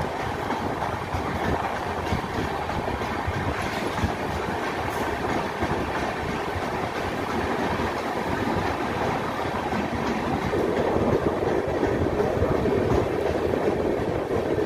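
Howrah–Malda Intercity Express running on rails near Pakur, Jharkhand: a continuous close rumble of wheels and carriages with faint rhythmic clickety-clack, steady and moderately loud, with no voices.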